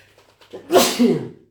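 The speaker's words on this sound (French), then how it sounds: "Ah, pardon, j'ai encore éternué" A single loud, close sneeze, a short sharp inhale building into an explosive burst that trails off, heard alone in a quiet indoor room.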